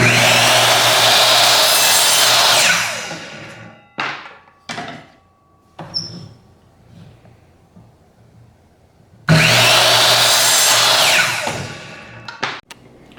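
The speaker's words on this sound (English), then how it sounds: "So I'm just going to cut a few more" Wood pieces for a socket holder cut with a power saw, two loud sustained cutting runs with several short thunks and clatters of handled pieces between them, close and free of talk.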